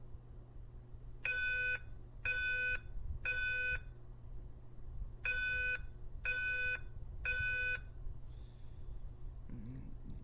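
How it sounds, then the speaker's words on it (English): Alarm tone from a Simplex voice evacuation fire alarm system: six identical bright, harmonic beeps in two groups of three, a steady temporal pattern over a low background hum, with no talking. "the sounds that can usually come from a simplex voice evacuation system, you can expect a tone like this."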